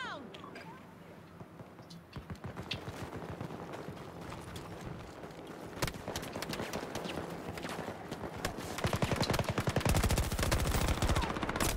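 Gunfire in the shooter game Battlefield 2042, dense rapid bursts of automatic fire and scattered shots building louder toward the end, with a voice talking over parts of it.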